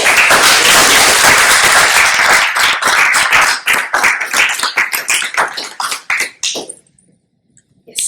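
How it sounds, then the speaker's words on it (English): Audience members at an American Bar Association panel session clap loudly, first a full burst of applause, then thinning to scattered individual claps before it stops and falls silent. "But to Ms. Villanueva, I just want to give you a round of applause"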